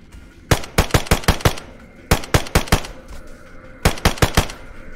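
Gunfire in DayZ, three quick bursts of five or six sharp, evenly spaced shots each, separated by short pauses, loud and fairly close with no voices over them.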